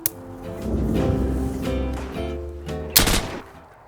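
M16A4 rifle fire in the Modern Warfare 2 video game, a loud close burst of rapid shots that rolls on for a few seconds and ends with a sharp final crack, with no talking.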